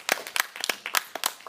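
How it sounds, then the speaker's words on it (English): An audience claps for a speaker at a debate, a brisk scattering of overlapping handclaps, close and fairly sparse, with no talking over it. "Let's give him a round of applause"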